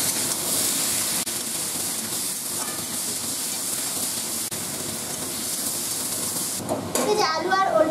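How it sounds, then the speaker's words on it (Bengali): Potatoes and elephant foot yam fry in a pan with salt and turmeric, giving a steady, close sizzling hiss that continues for the whole stretch and grows slightly brighter near the end. "এই লবণ আর হলুদ গুঁড়ো দিয়ে আলু আর ওলটাকে আমি খুব ভালো করে ভেজে নিই।"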